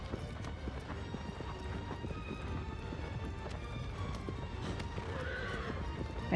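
Agro, the hero's horse in Shadow of the Colossus, gallops in a fast, steady clip-clop of hooves and whinnies amid rushing in-game action during the sandworm colossus fight, loud and continuous throughout.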